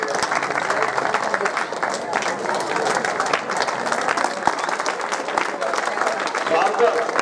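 Applause fills a school reunion gathering as teachers stand to welcome former students, steady dense clapping from a crowd continuing throughout with brief voices mixed in.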